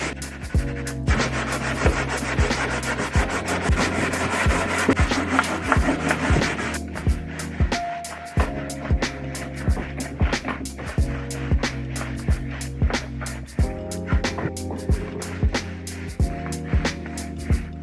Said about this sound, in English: I'm just going to give it a very gentle sand and some Danish oil